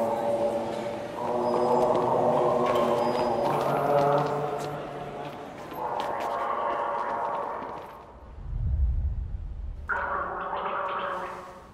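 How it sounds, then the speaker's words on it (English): Gargling heard as bubbling, tonal warbling in several sustained bursts, fairly close and moderately loud, with a low rumbling gurgle in between in a Christmas advert scene. "Is that gargling?"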